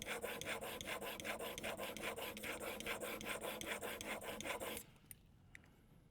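A steel Magnus broadhead is rubbed back and forth on sandpaper in quick, steady rasping strokes, close and fairly quiet, then the scraping stops, leaving a couple of faint clicks.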